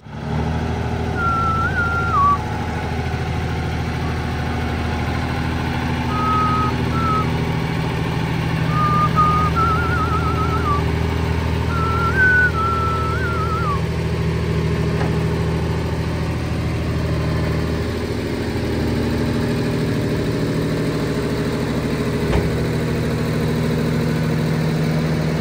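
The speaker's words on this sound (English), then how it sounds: "Me and Jack decided, because it was so dark, we'd best wait to manoeuvre the AVRE into position in the morning rather than crash into things at night" AVRE armoured engineering vehicle with a steady, low diesel engine rumble idling throughout, and a few short reversing-style beeps in the first half, heard alone with no talk.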